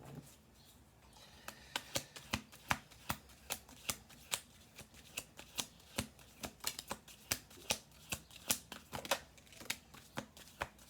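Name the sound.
shuffling cards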